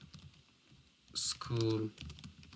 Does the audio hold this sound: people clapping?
no